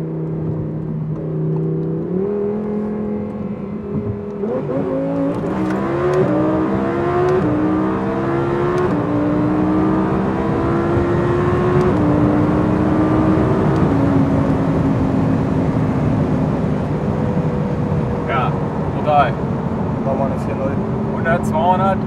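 An Audi R8 BiTurbo with over 1000 hp pulls hard from inside the cabin, its engine note climbing steadily through the gears with a sustained roaring whir, while occupants talk over it.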